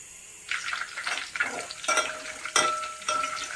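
Garam masala being stirred in hot oil over a low flame, with a soft sizzle and a few scraping strokes of a spoon against the pan, close and fairly quiet, no voices.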